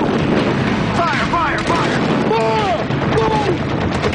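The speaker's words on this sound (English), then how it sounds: "Within minutes, the dark Southern California coast is rippled with beams of light and streaks of anti-aircraft fire." Anti-aircraft fire over the dark Southern California coast at night: a dense, loud, continuous wall of booming gunfire with wavering tonal wails riding over it throughout.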